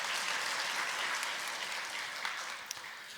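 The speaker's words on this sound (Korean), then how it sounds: "찬양대를 위해서 뜨겁게 박수 주시면 감사하겠습니다" Warm, sustained applause from a large church congregation, steady and dense throughout, tapering slightly near the end.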